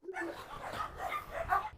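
Hunting dogs bark and yelp in a tense scuffle, a dense run of overlapping close, loud barks and whimpers through the whole stretch.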